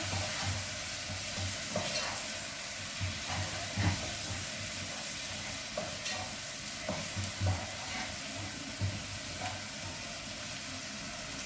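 Tomatoes and capsicum fry in a pan under a soft sizzle while a utensil stirs and scrapes in repeated bursts, the sounds near and moderately quiet, with no speech.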